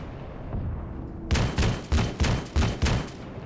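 Five heavy, evenly spaced bursts of vehicle-mounted weapon fire in Arma 3, loud and close, following a brief quieter lead-in with no speech.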